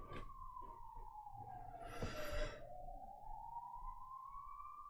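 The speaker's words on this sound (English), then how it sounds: "You guys hear that ambulance?" An ambulance siren sounds in Budapest, Hungary, a wailing tone sweeping down and back up, moderately distant and steady under faint street noise.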